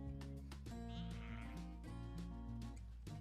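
Sheep bleat in a flock, several overlapping wavering calls close by, one after another without pause.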